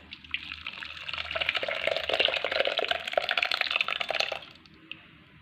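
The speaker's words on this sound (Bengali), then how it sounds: "এবার এটাকে একটা সাদা কাপড়ের মধ্যে ঢেলে দেবো।" Curdled milk chhena being poured into a white cloth, a steady close splashing pour of watery whey lasting about four seconds before tapering off, with no talk.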